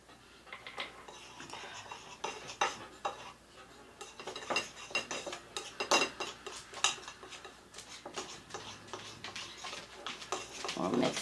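A utensil stirs blue paste gel color into a marble baking glaze in a bowl, giving quiet, irregular clinks and scrapes against the dish, close up with faint room noise between strokes.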